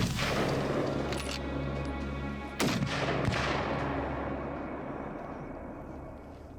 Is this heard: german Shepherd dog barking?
no